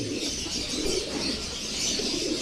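Pigeons coo softly and steadily at close range in a loft among bonsai in Marikina, a low continuous murmur with light chirps mixed in and no voices.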